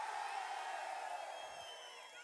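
At a packed political rally hall in Veerapandi, a crowd roars and cheers in a dense, continuous wash of voices heard from a distance, with a speaker's amplified voice mixed in.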